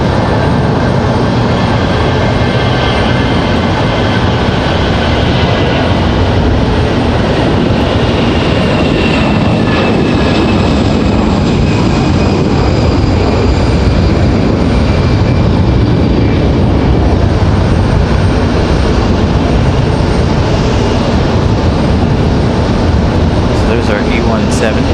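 A Delta Airbus A319 jet departs at Raleigh-Durham, its loud, steady engine roar filling the whole stretch with rumbling low end, and a voice talks over it at times.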